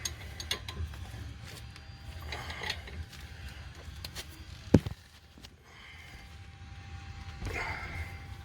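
A hand ratchet tightens brake bolts on a Toyota Corolla, clicking in short bursts of rapid pawl ticks with a sharp metallic knock midway, close by and fairly quiet against background hiss.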